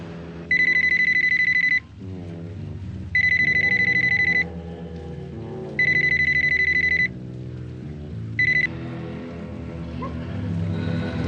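An electronic telephone ring sounds in four repeated bursts, the last one cut short, over steady background music.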